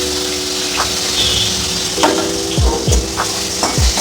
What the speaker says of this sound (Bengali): দেখুন কাঁচকলাটাকে ভেজে নেওয়া হচ্ছে